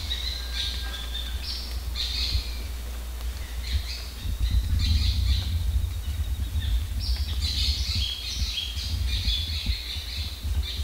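Birds call and squawk in Bidoup Núi Bà forest in Vietnam, a series of bright chirps and squawks repeating throughout, moderately near, over a steady low rumble of background noise.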